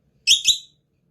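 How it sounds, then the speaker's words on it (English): Two quick, shrill beeps in a row, close and clear, with silence before and after. "Beep."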